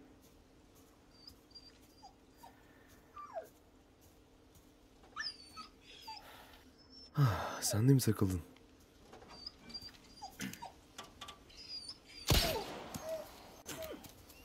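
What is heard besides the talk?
dog whimpering in video game Resident Evil 4 Remake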